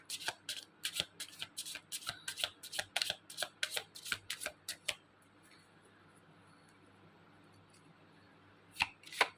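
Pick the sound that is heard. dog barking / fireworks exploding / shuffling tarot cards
shuffling tarot cards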